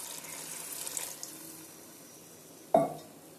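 A little water is poured into a cooking pot of potol and potato curry, a faint hiss followed by one short, sharp splash near the end.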